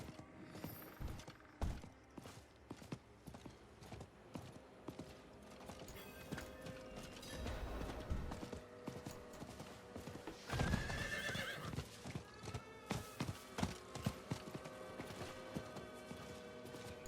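Horse from the game Diablo 4 being ridden around town and up stairs: rhythmic clip-clop hoofbeats with sharp clattering steps, a loud whinny near the middle, and metallic mechanism clicks, close and without talk.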